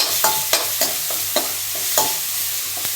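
Onion and spices sauté in a pan for a Tamil-style butter bean gravy: a loud, close run of regular spatula scrapes and taps, about one every third of a second, over a constant oily sizzle, with no voices.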